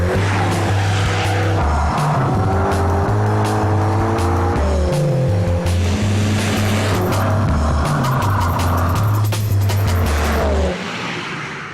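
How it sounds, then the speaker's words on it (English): Mini John Cooper Works GP hot hatch driven hard on a timed lap, its engine loud and close, revving up through the gears with repeated shifts and a steady roar that drops away at the end. "the Stig is in a mini John Cooper Works GP, one of the most hardcore hot hatches you can buy"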